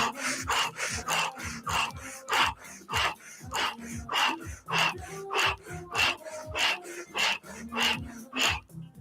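Rapid rhythmic breath-of-fire breathing during a Kundalini yoga breathwork session, sharp nasal exhales pulsing steadily about twice a second, close and continuous for the whole stretch.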